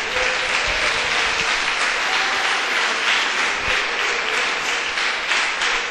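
Hands clap in a church gathering, a thick, steady round of applause from many people that carries evenly from start to finish.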